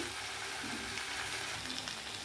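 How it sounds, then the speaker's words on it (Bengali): Egg and potato pieces sautéing with spices in a hot pan, a steady close sizzle and crackle running unbroken throughout with no talking. "আমি কিন্তু 2-3 মিনিট ডিম আর আলুর সঙ্গে মশলাটা কষিয়ে নিয়েছি"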